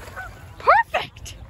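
A goose gives two loud, close honks in quick succession beside water, with faint background noise and no talk during the calls.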